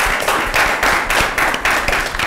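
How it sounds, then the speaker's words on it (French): A studio audience applauds at the close of a talk-show interview, with rhythmic waves of clapping pulsing steadily and fairly loud throughout, no voices over it. "Je vous demande de l'applaudir très très fort"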